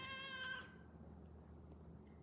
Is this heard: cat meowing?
yes